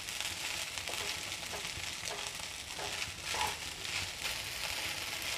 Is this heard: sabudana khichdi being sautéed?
yes